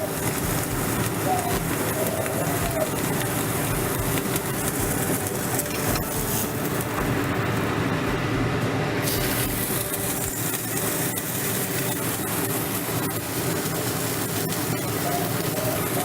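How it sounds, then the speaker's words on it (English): A steak sears in a hot pan, giving a dense continuous crackling sizzle throughout that sounds much like heavy rain, close and steady, with no talking. "Now you also want to sear the inside of the steak as well."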